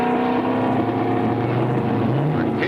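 A swamp buggy engine at the Naples swamp buggy races roars loud and close, a steady low rumbling drone that shifts slightly in pitch toward the end.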